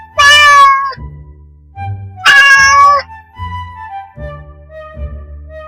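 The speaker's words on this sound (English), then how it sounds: "Cat meowing." A gray cat meows loudly twice, long drawn-out cries a second or so apart, followed by softer low murmurs and faint purring-like sounds, close and clear with no talking.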